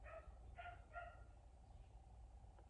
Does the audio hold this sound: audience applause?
no